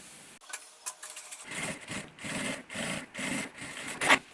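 A sewing machine runs topstitching on synthetic fabric for a small pouch, stitching in a series of short regular bursts with brief pauses between, close and moderately loud.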